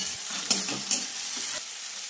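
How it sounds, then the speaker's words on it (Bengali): Ginger paste is stirred into chicken and potatoes frying in a pan, with a close steady sizzle and two sharp scraping clatters of the spoon against the pan. "এরপর আদা বাটা দিয়ে ভালো করে নেড়ে নিলাম।"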